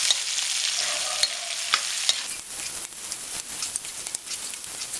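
Onions frying for an Indo-Burmese mutton uppu curry, a bright continuous sizzle with scattered spoon scrapes and ticks as they are stirred, close and moderately loud.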